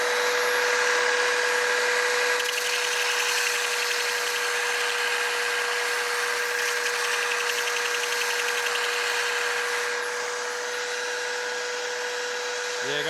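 Lawn mower blade balancer running with a mower blade, a steady loud whirring motor hum with a constant high whine, continuous for the whole stretch and slightly easing near the end, no voices.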